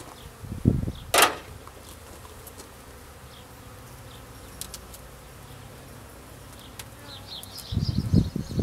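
Honeybees in beehive supers taken off in cold spring weather, a low steady hum under occasional knocks and clatter from the hive equipment.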